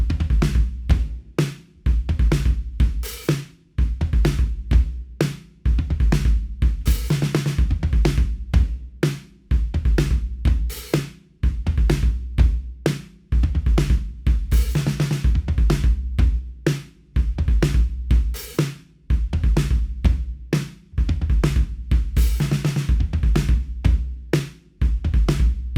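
Drum kit plays the verse groove from a song in the second of two approaches, a steady, driving beat of punchy kick, snare and cymbal hits that repeats loud and close for the whole stretch with no talking.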